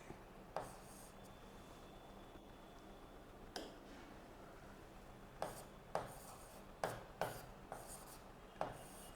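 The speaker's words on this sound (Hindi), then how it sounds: "यहीं पर एक ऐसे पॉइंट डालते हैं और यहाँ पे लिखते हैं" Chalk or marker writing on a board, a faint scratchy rubbing punctuated by several sharp taps as strokes begin, spaced irregularly across a quiet room.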